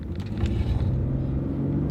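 A quiet, tight-steering luxury car accelerates on the road, its engine a steady low rumble that holds constant without sharp revving, heard from inside the cabin with no talk.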